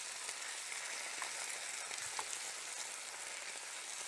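Potatoes and onion frying in hot oil in a pan, a steady, faint crackling sizzle with scattered small pops, continuous and close.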